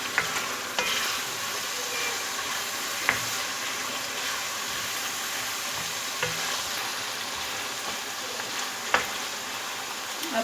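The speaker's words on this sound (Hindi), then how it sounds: "अब इनको 1 से 2 मिनट भूनना है।" Minced meat keema with added spices sizzles steadily as it is fried and stirred in a pan, with a continuous close crackle and a few sharp spoon scrapes and clinks against the pot.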